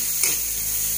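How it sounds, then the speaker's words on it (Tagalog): White onions sizzling in a well-used frying pan, a loud, steady hiss with one brief scrape of a stirring utensil near the start, close and without talk. "Haluin lang po natin."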